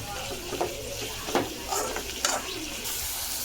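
Chopped tomatoes and onion sauté in a pan, a steady close sizzle with a few soft stirring scrapes and taps at intervals.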